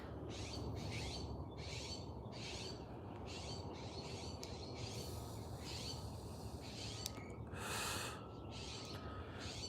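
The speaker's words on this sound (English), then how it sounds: "Kill the birds in the background?" Birds call repeatedly from the trees in the background, a series of short, rhythmic bursts at moderate distance over steady ambient noise, with no talking.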